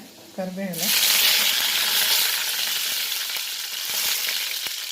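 Curry leaves dropped into hot oil in a pan while cooking vegetable upma burst into a loud, dense crackling sizzle that keeps going steadily. A short voice is heard just before the hiss.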